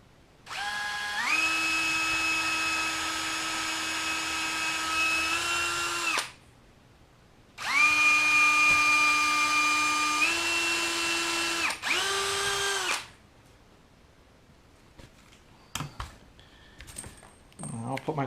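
A power drill drives two screws into the leg of a reptile enclosure, giving two loud, close, whining runs of several seconds each, then a short burst and quiet clicks and handling noises.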